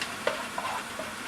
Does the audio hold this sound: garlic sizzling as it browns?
yes